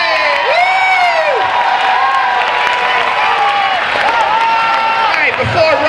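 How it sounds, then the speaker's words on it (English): A school audience at a community meeting claps and cheers steadily throughout, with whoops and high children's shouts rising over the applause. "Nice round of applause for Rohit, Mara, and Ashley!"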